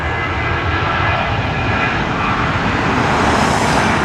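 A Southwest airliner taking off from the north runway at Los Angeles International Airport roars loudly and continuously, its engine noise swelling slightly toward the end, with no voices over it.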